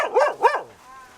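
A country dog, a German Shepherd mix on a rabbit farm in Jamaica, gives two quick close barks in a row, followed by a faint trailing tone as the sound dies away.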